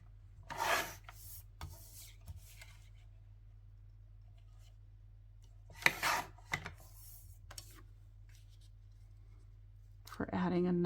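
Paper for a scrapbook photo mat is cut with a trimmer in a few short rasping swipes spaced apart, close but soft in an otherwise quiet room.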